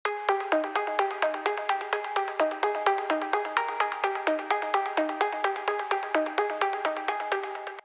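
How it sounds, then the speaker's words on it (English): Two layered synth plucks from an FL Studio EDM track play a bright, bouncy melody of short, evenly spaced notes that decay quickly, steady rhythm throughout, moderately quiet and without any talking. "Then I went ahead and layered two plucks that are playing this melody."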